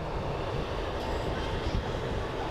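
Aircraft fly over a busy beach at Sopot, Poland, heard as a steady broadband roar under constant crowd chatter and wind, their engines blending into the continuous background rather than standing out.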